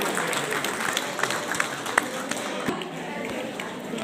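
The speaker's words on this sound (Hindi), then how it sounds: "जोरदार ताड़ी बजा अभिनंदन करो सर जी, बजाइए।" Audience applause at a women's honor ceremony held by a Sindhi community panchayat, a dense wash of clapping from a crowd, steady throughout with scattered sharper claps.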